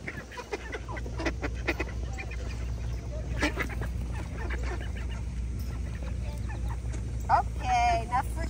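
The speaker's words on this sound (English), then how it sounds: "The duck keep flying." Ducks at an animal park in Niagara give scattered quacks and honks and flap about near feeding visitors, with people talking nearby over a steady outdoor hum.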